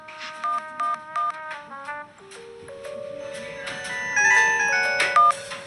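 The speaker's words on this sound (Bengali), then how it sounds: "বাবাকে একটা ফোন করি" A phone call is placed: a run of short keypad dialing beeps, then a sustained electronic ringing tone, clear and close with no voices.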